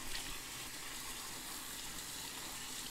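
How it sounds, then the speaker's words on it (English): Dishwasher parts rinsed under a running kitchen sink tap, a continuous close rush of water splashing over plastic for the whole stretch, no talking. "all you have to do is rinse all these parts off"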